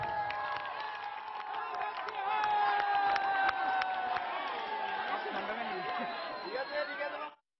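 Crowds of spectators line the banks of the Ghaghat river at a traditional boat race, cheering and shouting in a dense, sustained roar that peaks midway before fading out.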